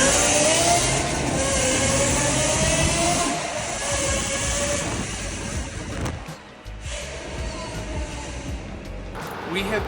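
Straight-piped Lexus LFA driving through a tunnel in Monterey, a loud, sustained, reverberant exhaust roar that swells and dips as the car passes, with the engine note rising and falling.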